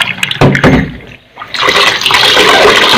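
Water is poured and splashes while ingredients are washed for binutong, a Bicol rice dish; the burst is close and loud, breaks briefly, then runs again as a steady gush to the end.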